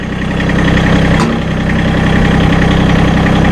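Massey Ferguson GC1725M sub-compact tractor with its diesel engine running at a steady throttle while the front loader is raised, a loud, close, continuous mechanical rumble with a brief hydraulic bump near the start.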